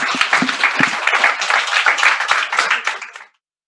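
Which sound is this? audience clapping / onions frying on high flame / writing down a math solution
audience clapping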